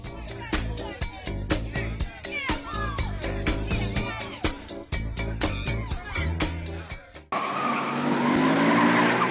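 Tires screech in long wailing squeals over a roaring engine, followed by a sudden cut to a steady outdoor rush.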